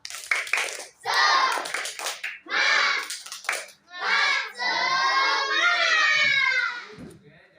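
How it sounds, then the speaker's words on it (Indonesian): A school class doing a rhythmic spirit clap, bursts of children's claps and chanting voices in a patterned sequence, loud and close in the room. "Nah, tepuk semangat."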